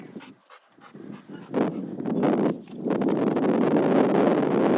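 Dogs panting steadily during an obedience training session outdoors, a continuous breathy rhythm close to the microphone with some wind noise, starting quiet and growing louder and fuller.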